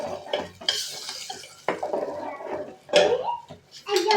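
A tamarind, tomato, onion, garlic and coconut mixture is tipped into a cooking pot, giving short bursts of pouring and splashing with pot clatter and stirring, close and fairly loud, with pauses between.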